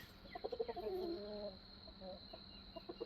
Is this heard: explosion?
no